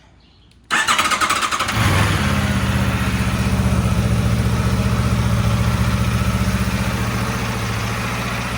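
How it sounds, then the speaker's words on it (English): A stock, brand-new Aprilia RSV4 Factory sport motorcycle engine cranks and fires up from cold after brief quiet, then settles into a loud, steady, slightly uneven idle close by. "I'm gonna go over what a cold start is."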